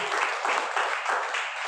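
A seminar audience applauds in a brief, dense burst of many hands clapping at a steady level, with slight murmuring beneath.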